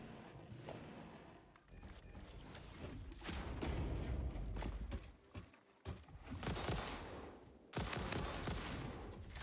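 Rifle fire in the Satisfactory video game comes as long, loud automatic bursts, one entire clip after another, with brief gaps and mechanical clicks between them.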